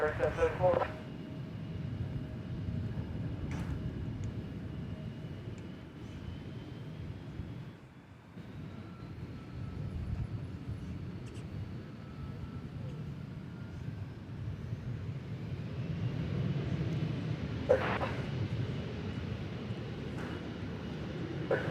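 American Airlines flight 1729 departs Dallas Fort Worth for Fresno. Its engines make a low, distant rumble that swells gradually over the stretch, with a voice talking and a few short clatters.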